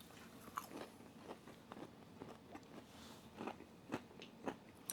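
Popeyes buffalo rub shrimp being bitten and chewed close up, a series of soft crunchy bites and wet chewing at an irregular pace, with no talking.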